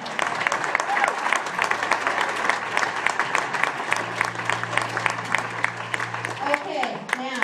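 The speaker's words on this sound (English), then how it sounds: "did you hear the wild applause for the home team?" Graduates of an animal chaplain program get loud, sustained applause from a room full of people, dense clapping filling the moment with a low hum beneath and voices rising near the end.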